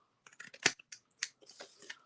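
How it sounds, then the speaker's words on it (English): Scissors snip a paper card for a bay window fold, a few quick crisp close cuts and small rustles, soft and isolated. "So I'm just going to take my scissors."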